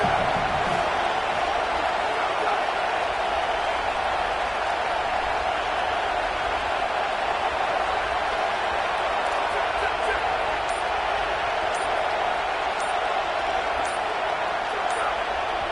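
A packed stadium crowd at a Seminoles football game roars in a steady, dense wash of noise that holds without a break, loud but heard from a distance across the whole stretch.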